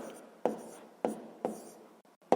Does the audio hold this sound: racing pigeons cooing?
no